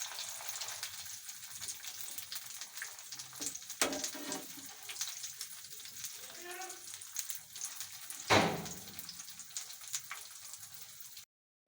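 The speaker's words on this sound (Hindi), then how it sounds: "ऐसे हम इनकी साइडें चेंज करते जाएंगे और इनको पकाते जाएंगे।" Crispy potato balls fry in a home kitchen pan, giving a steady close sizzle with occasional louder crackles and scraping bursts as they are turned over.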